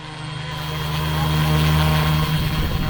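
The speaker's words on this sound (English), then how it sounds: "An awesome looking Airwolf helicopter" A small remote-control Airwolf model helicopter, the Wolfbush AW-911, whines with a steady rotor drone that swells as it gets closer, loud and continuous.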